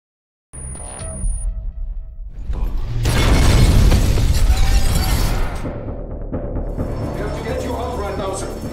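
A building is blown up in a film scene: a sudden loud blast with shattering debris that swells into a heavy roaring rumble, then tapers into a lingering mechanical hum.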